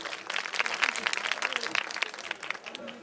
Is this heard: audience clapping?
yes